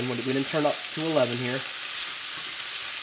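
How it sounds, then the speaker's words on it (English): Chicken stir-fried lightly in a pan over medium to medium-high heat for no-peanut kung pao chicken, a steady close sizzle that runs under a voice at first and then continues alone. "That's all we're doing, is stir frying lightly."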